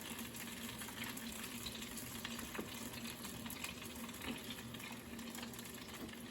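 Small salmon balls simmer in a salmon stew, a soft steady bubbling and gentle sizzle with faint occasional clinks, quiet and continuous with no voices.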